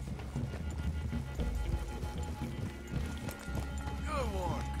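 Horses' hooves clip-clop in Red Dead Redemption 2, a steady rhythmic plodding of several horses mixed into an outdoor game ambience with a low background rumble, continuing under the scene.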